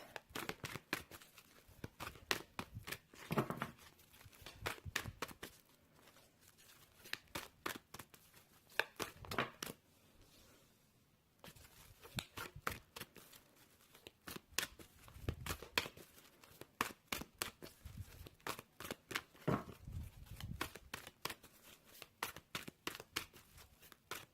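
Tarot cards are shuffled in repeated rapid bursts of riffling and flicking, with short pauses between rounds, close and fairly quiet.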